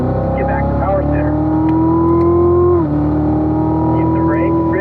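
A car circles the Spring Mountain East race track with a steady engine drone that dips once in pitch as it eases off, while an instructor keeps talking over it.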